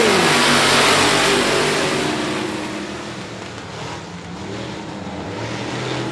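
Race cars roar off the green flag at night racing on I-37 Speedway, a loud, dense wall of engines accelerating together, harmonics climbing, then easing slightly as the pack pulls away into a sustained mid-distance drone.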